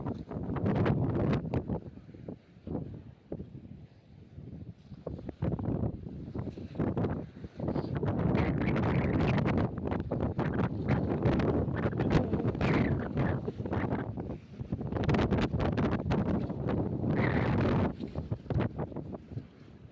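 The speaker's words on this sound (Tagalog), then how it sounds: "Lakas ang hangin." Strong wind buffets the microphone at sea from a boat during a fishing trip, with loud, gusty roaring rumbles that swell and ease in waves throughout and no one speaking.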